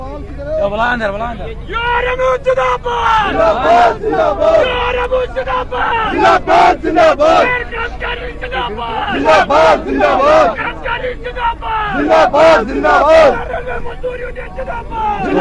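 A large crowd chants and cheers in loud, rhythmic unison as the Vande Bharat Express pulls into Budgam, with shouted call-and-response voices rising and falling over a steady hubbub of nearby people.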